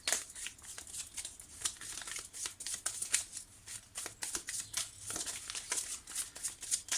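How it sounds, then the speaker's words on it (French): Tarot cards being shuffled and handled, a steady close crisp riffling and flicking with soft papery rustles throughout, quiet and without talk. "j'ai envie de sortir une carte du tarot pour voir"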